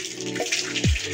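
Dirty water from washing potatoes poured out of a bucket, a brief close splash and gush near the end after quieter water sounds.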